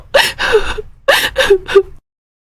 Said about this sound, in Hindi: वो जोर जोर से हांफने लगता है।